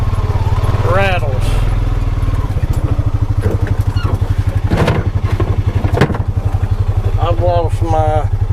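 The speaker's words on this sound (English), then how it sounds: "One thing I've been noticing on the Pioneer 520 is when it's cold, the exhaust rattles." A cold Pioneer 520 side-by-side idles with a loud, steady, fast engine pulse and a metallic exhaust rattle, while a person speaks briefly over the running engine.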